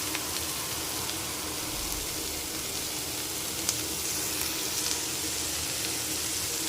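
Food fries lightly in a pan with a soft, even sizzle, faint and steady throughout, with a few tiny pops and no talking.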